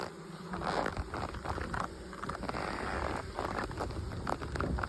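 A dense, steady buzz of many honey bees fills the space during a colony transfer, close and continuous, with faint rustling and patter underneath.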